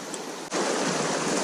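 Fast water rushes steadily through a trout stream pool, a loud, continuous broadband roar that briefly dips and then swells back up, with no voices.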